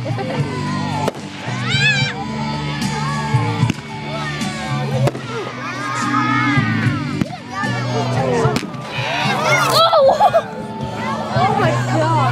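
Fireworks bursting outdoors with several sharp bangs and crackling pops spread through the stretch, mixed with a chattering crowd, cheering and excited voices throughout.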